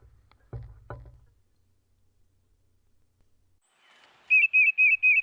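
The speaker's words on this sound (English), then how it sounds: "the tufted titmouse is described as having an echoing voice" Tufted titmouse song: a clear, repeated whistled phrase of four quick notes near the end, preceded by a couple of soft low thumps and quiet background.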